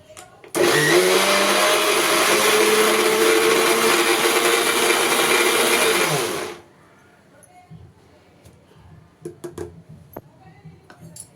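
A loud mixer grinder whirs steadily for around six seconds while grinding chilli powder and spices for prawn chilli powder, then cuts off, leaving quiet room noise and some faint knocks.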